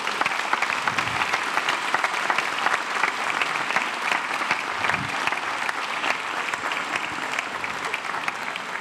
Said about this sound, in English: Could we put a big round of applause for them?